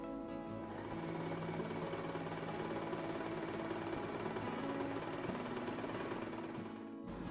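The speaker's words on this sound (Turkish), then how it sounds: "Minder kılıflarımı dikmeye başlıyorum. Bu köşeleri birleştireceğim." A sewing machine runs steadily for about seven seconds, stitching together the corners of a cushion cover. The machine's hum and needle chatter stay continuous and close, with no talking.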